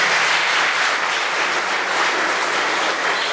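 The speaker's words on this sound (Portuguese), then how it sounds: "Vamos aplaudir também esses anfitriões." A church audience applauding cell group hosts, dense continuous clapping that fills the room at a steady, loud level throughout.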